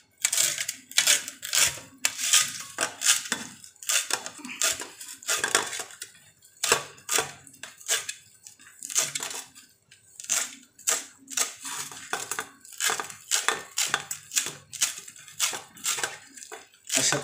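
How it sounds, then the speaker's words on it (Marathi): Fresh coriander finely chopped with a knife on a cutting board, rapid close crisp chops in quick bursts with short pauses, continuing steadily for the whole stretch with no talking. "प्रथम आपण कोथिंबीर बारीक चिरायला सुरुवात केली आहे."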